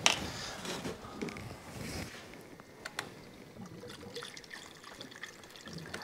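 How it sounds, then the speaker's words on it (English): Coolant being poured into the cooling system of a BMW N54 engine, a soft splashing trickle that gurgles on steadily for several seconds, close by with no voices. "so let's fill up a little bit more."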